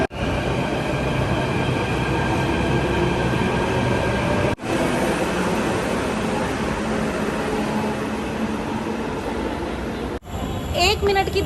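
A Delhi metro train pulls away from 30 Hazari station as a loud, steady rumble and whine, filling the space and continuing for several seconds before a brief break and clatter at the end.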